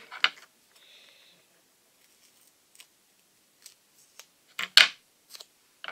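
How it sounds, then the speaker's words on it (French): Scissors snip through a 3D foam sheet while a St. Patrick's Day card is being made, giving a few sharp isolated cuts that end in a louder crunching snip near the end, close and alone. "comme d'habitude, ça tue les ciseaux"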